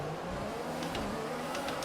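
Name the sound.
F1 2021 Williams car engine revving at race start in video game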